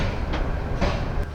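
The Jamuna Express pulls into Piyarpur railway station with a steady rumble of rolling cars and a few faint clicks of wheels over rail joints, loud and continuous, with no voices.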